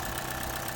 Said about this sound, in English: As you can see, it's idling very nicely here.